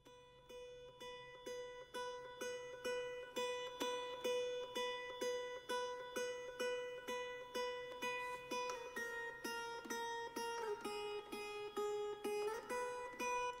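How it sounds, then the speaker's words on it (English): An acoustic guitar is plucked in a steady, evenly spaced run of ringing single notes, close and clean, the pitch shifting slightly toward the end with no voices. "That's literally me just playing some notes on the guitar and then recording it"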